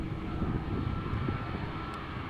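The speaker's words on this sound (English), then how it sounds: "Here we have an American Dreamliner taxiing to the runway threshold, outbound to Philadelphia." An American Airlines Dreamliner taxiing toward the runway threshold at Amsterdam Schiphol, a steady, distant jet engine rumble and whine that holds evenly throughout with no talking.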